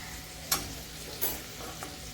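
Turmeric, coriander powder and red chilli sizzling in a tawa pan of pulao, a soft continuous fry with a few sharper stirring scrapes over a faint background hum.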